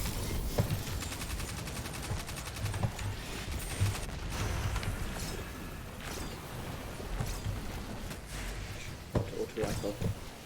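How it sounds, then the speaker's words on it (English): Rapid bursts of auto rifle gunfire in the video game Destiny 2 dominate the sound, with dense automatic shots and mechanical clatter throughout, and a voice talks over it. "Auto rifle."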